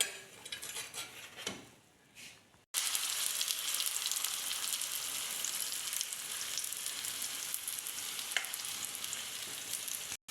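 An egg frying in a pan for a quick breakfast: a few soft clinks of utensils, then a loud, steady hiss and crackle of sizzling oil that continues without pause.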